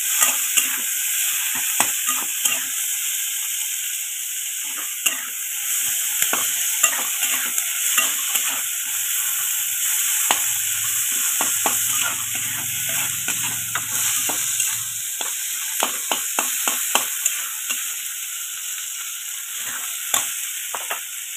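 Onion, peas and tomato frying in a kadai, a close continuous sizzle broken by frequent sharp clicks and scrapes of a spatula stirring, with no voices.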